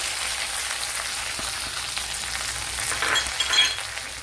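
Curry leaves, ginger, garlic and green chilli frying in hot oil for a papaya cutlet, a steady dense sizzle close by that swells briefly near the end as the pan is stirred.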